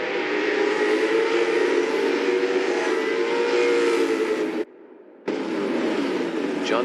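Race cars launching at the start of an Assetto Corsa race, several engines droning and climbing together in loud, layered revving that cuts off briefly before resuming.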